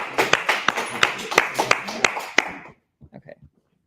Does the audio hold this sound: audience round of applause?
yes